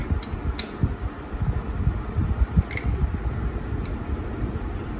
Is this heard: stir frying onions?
no